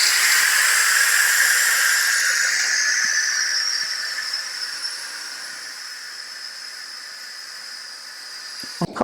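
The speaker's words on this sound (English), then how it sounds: "we'll cancel that and let out the steam" A loud, steady hiss of steam escaping under pressure from an Instant Pot pressure cooker, gradually easing off over several seconds before a brief clatter at the end.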